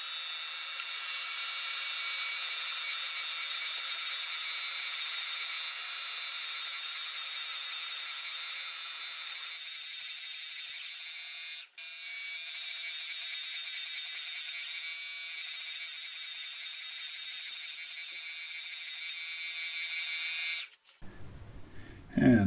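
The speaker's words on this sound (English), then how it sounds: "So now we'll clean up it on the grinder" Grinder cleaning up lathe chuck jaws, a continuous high-pitched whine that holds steady for about twenty seconds with slight shifts in tone, then stops abruptly.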